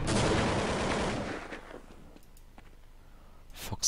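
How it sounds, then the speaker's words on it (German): Gunfire in Counter-Strike on the de_train map during a professional Natus Vincere vs. place2play match: a loud burst of shots fades into quieter clicks and a sharp report at the end. "Neo hatte zumindest schon mal einen Schuss abgefeuert"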